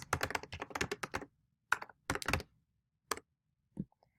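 A file name typed on a computer keyboard, with a quick burst of clicky keystrokes, then a pause and a few isolated taps. Close and fairly crisp, with no voices.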